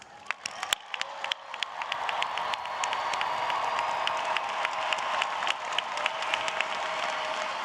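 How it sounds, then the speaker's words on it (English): A large commencement crowd gives a sustained round of applause for bachelor's degree graduates at New York City College of Technology, steady dense clapping with a few sharper nearby claps and faint cheers. "will all of the bachelor's degree candidates please stand for one more round of"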